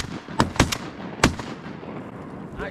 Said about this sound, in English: That was a hell of a shot.